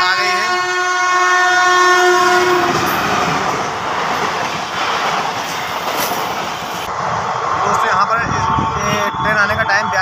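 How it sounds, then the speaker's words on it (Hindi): A train arrives at a station in India, sounding a long, loud horn blast that gives way to the heavy rumble and clatter of the approaching cars, with voices in the background. "42 सेकंड्स के बाद दोस्तों ट्रेन आ गई है।"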